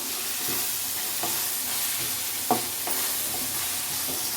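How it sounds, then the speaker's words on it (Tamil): Potato and brinjal sauté in hot oil for a dried fish curry, giving a steady close sizzle broken by occasional scraping stirs of the spoon. "இதெல்லாம் நல்லா மிக்ஸ் ஆகிற வரைக்கும் நல்லா வதக்கி விடணும்"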